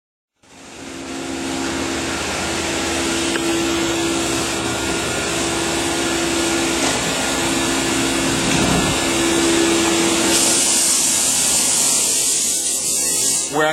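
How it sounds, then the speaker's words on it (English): A CNC mill roughs out a front fascia mold section combining the side marker and wheelhouse, giving a steady, loud machining whir with a sustained tonal hum, running continuously without talk. "That is actually on the mill now."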